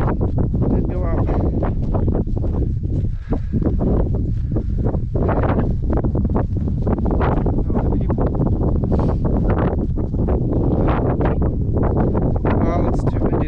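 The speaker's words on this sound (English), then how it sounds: "it's too windy to drone" Strong gusty wind buffeting the microphone in loud, uneven bursts throughout, with no clear voices.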